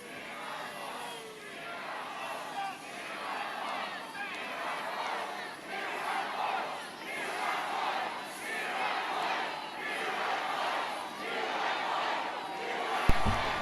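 A large rally crowd for Donald Trump in Jacksonville, Florida chants in a regular rhythmic pattern, roughly a dozen loud pulses of massed voices rising and falling, with a sharp bump right at the end.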